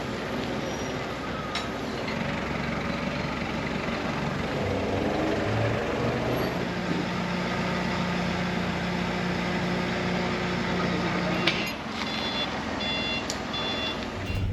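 A truck rumbles and pulls away toward a workshop in Guayaquil, its engine droning steadily under a continuous background of mechanical noise, with a brief clank near the end.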